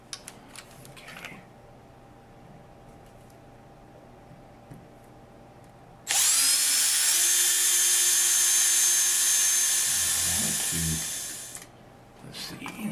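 After quiet handling noises, a power drill whirs loudly and continuously for several seconds, winding down before light clattering resumes.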